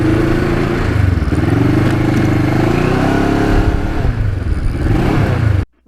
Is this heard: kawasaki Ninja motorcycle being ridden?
yes